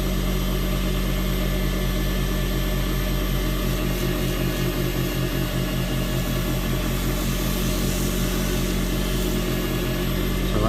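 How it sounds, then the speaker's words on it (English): Woodturning lathe running steadily with a continuous loud motor hum and whirring drone, unchanging and alone throughout. "So let's turn the lathe off."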